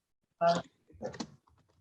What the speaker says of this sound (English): So Rich is typing it in